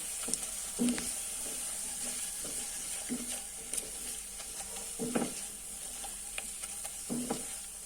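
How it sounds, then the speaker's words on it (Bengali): Spices such as turmeric, coriander and chili powder fry in oil with bay leaves for a pabda fish curry, with a steady soft sizzle and occasional spoon scrapes and stirring clinks in the pan. "এই তো মশলাগুলো বেজে নিচ্ছি"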